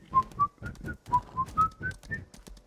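A person whistles a short tune: a run of about nine bright, clipped notes in a quick, bouncy rhythm, close up and alone, each note articulated separately with brief breaths between.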